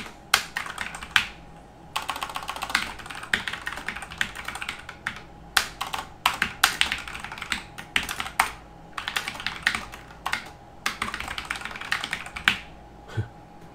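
Someone types on a computer keyboard close by in a quiet room, with rapid clusters of clicky keystrokes broken by short pauses.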